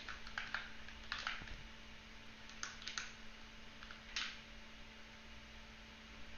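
Typing on a computer keyboard while entering an IP address during Raspberry Pi server setup: a few quiet, scattered keystroke clicks over a steady low mains hum, no talking.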